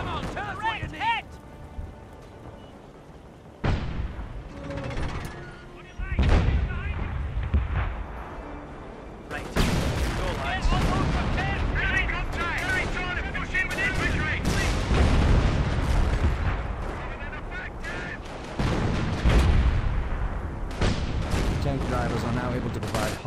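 Heavy 25-pounder artillery booms in a Company of Heroes battle at Caen, repeated loud blasts with rumbling tails layered over gunfire and shouted voices.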